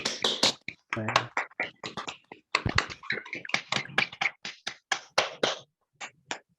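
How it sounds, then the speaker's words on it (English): Scattered claps from an online audience after a poetry reading, each participant clapping separately through unmuted microphones, producing irregular close, sharp hand strikes in uneven bursts. "Would everyone like to unmute themselves and give Jane a nice loud clap?"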